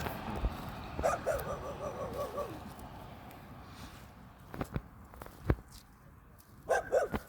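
A reluctant stray dog gives a few short barks and yips at moderate distance, with footsteps and rustling between them and quiet voices nearby.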